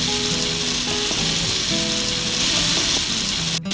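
Butter sizzling and frying in a pan as the first step of a traditional French pot roast chicken, a loud, close, continuous crackling hiss with a little stirring, ending with a brief clatter.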